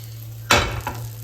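Butter hitting a hot pan for making banana milk bread toast, a sudden loud sizzle that flares and then settles into steady frying hiss over a low background hum.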